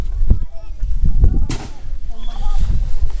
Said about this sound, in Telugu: ఇంత మంచులో ఎవడో బాంబులు వెలుస్తున్నాడు అలా పైన